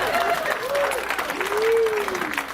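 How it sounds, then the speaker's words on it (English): Applause from a stand-up comedy audience, a continuous crowd clapping with a faint whistle-like tone gliding through, no clear speech. "Don't clap for kidnapping."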